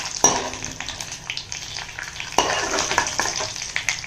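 Chana dal and urad dal fry with asafoetida in hot oil, giving a steady close sizzle. A spoon stirs and scrapes through the crackling in a couple of clear strokes.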